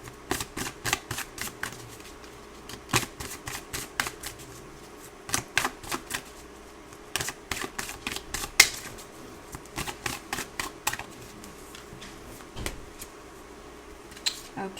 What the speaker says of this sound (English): Let's go ahead and pull some cards for all my Aquariuses.